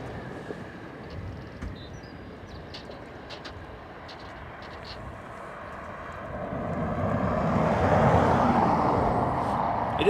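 An airliner at Dublin Airport on runway 10 right, its engines a distant rumble that swells into a louder, broad roar over the final seconds, with no talk.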